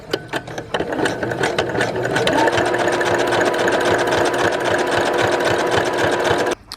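A sewing machine runs continuously at close range, stitching a Scout or Guide badge onto fabric, a rapid even mechanical whir and clatter after a few starting stitches, stopping abruptly at the end.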